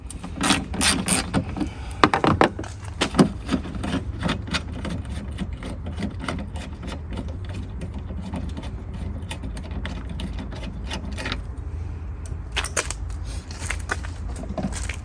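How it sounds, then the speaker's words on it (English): A ratchet with a 10mm socket and extension works loose the cowl panel bolts on a Ford Escape, making repeated close clicking and ratcheting bursts with mechanical rattles throughout, no speech. "we need 10mm socket, extension and ratchet"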